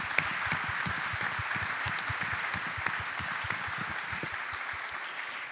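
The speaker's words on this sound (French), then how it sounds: "de vous applaudir et d'entamer par vos applaudissements cette 6e édition des Assises" A conference audience at the opening of a real estate convention applauds continuously, a steady even wash of many hands clapping with distinct nearby claps standing out, moderately loud and without speech.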